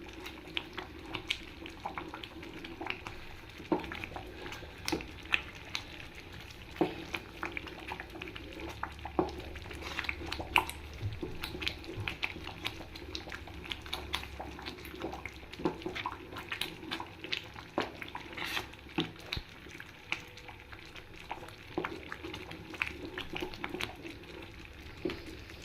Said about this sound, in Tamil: சீக்கிரமாகவே இந்த தவாவில் நம்ம இதை கிண்டி எடுத்துடலாம் அல்வாவை